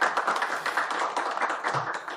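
Crowd applause at a church panel discussion welcoming a pastor, a dense, steady wash of many hands clapping together, fairly loud and close throughout.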